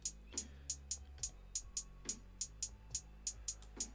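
Drill-style hi-hat pattern programmed in dotted eighth-note triplets: crisp, evenly bouncing ticks repeating over a low sustained bass, clean and moderately quiet with no voice.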